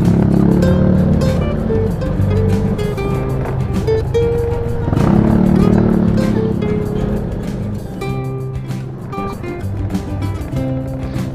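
A motorcycle rides along a rough, potholed road at night, its engine droning steadily and close with rumbling road and wind noise throughout, easing slightly toward the end.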